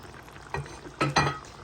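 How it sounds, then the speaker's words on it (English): Beef and its juices tipped back into a simmering pot of Beef Stroganoff, giving a few soft wet splashes and clatters, with a faint bubbling sizzle underneath and no talking. "we're going to throw the beef back into the pot along with the juices"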